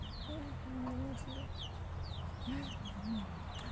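Chickens kept by a Filipino household cluck in low, repeated calls, with sharper bird chirps scattered above them over a steady outdoor background hum.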